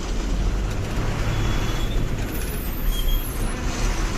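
A vehicle creeps through dense road traffic near Surat, with a steady low rumble of engines and surrounding vehicles, faint air-brake hiss and a distant horn, continuous and fairly loud with no talk.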